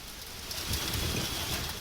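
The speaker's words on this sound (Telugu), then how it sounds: "ఉప్పల్లో భారీ వర్షం పడింది." Heavy monsoon rain falling in Hyderabad, a steady hissing downpour pattering on surfaces, heard alone and fairly close for a couple of seconds.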